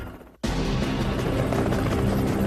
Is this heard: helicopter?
yes